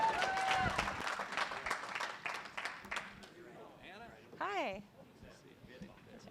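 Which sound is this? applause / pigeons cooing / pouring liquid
applause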